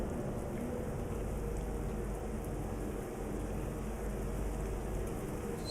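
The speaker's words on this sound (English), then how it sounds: "the rain it starts. Raindrops are on the windscreen." Rain patters steadily on a truck windscreen while driving in Euro Truck Simulator 2, forming a constant dense hiss over a low engine rumble with no voices.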